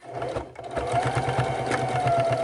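A sewing machine stitches binding onto fabric, its needle chattering in a fast, steady run close by after a brief slowdown at the start.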